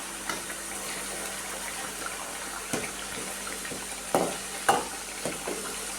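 Homemade bhringraj hair oil bubbling and sizzling in a pot over a raised flame, a steady soft bubbling with a few louder pops and stirring knocks, near and alone.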